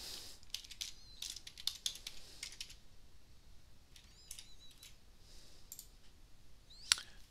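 Scattered, fairly soft clicks from a computer keyboard as an email address and password are typed, in short uneven bursts with pauses and one sharper tap near the end.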